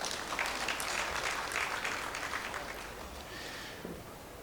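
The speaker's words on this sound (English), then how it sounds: "let's put our hands together and clap for them" Audience applause at a speech event, a dense patter of clapping that gradually thins over a few seconds.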